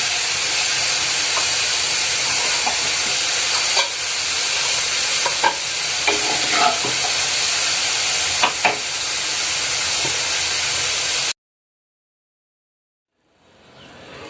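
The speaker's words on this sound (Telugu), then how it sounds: "మిక్సీ పట్టు పెట్టుకున్న జీలకర్ర, వెల్లుల్లిపాయ, ఉల్లిపాయ పేస్ట్ ఇందులో వేసి బాగా ఎర్రగా అయ్యే వరకు ఫ్రై చేసుకున్నాం" A paste of ground cumin, garlic and onion fries in a pan for a bitter gourd curry, giving a steady, loud sizzling hiss with a few clinks of stirring, then cutting off abruptly into near silence.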